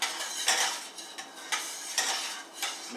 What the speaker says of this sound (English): let's spread the butter around